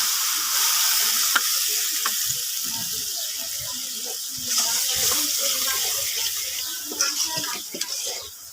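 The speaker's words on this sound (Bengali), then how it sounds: "কষানোর জন্য একটু পানি দিয়ে দিলাম" Hot chili powder and turmeric hiss and sputter loudly as water hits the pan, a steady sizzling wash broken by a few sharp pops and clinks.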